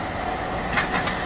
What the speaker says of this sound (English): there's a Romanian tram